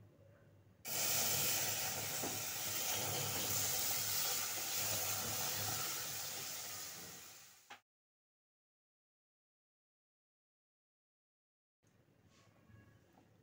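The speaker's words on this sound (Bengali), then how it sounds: "এবার এর মধ্যে দিয়ে দিচ্ছি এই কাপের হাফ কাপ দুধ।" Half a cup of milk poured into a hot pan of lightly roasted rice flour and semolina for patishapta pitha, giving a loud, steady hiss and sizzle for about seven seconds that ends abruptly, followed by silence and faint kitchen noise.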